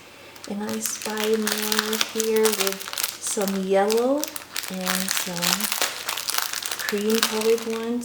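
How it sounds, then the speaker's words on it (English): Plastic packaging crinkles and rustles close by as vintage eyelet lace trims are unwrapped, with someone talking over much of the handling. "Sorry about the plastic noise."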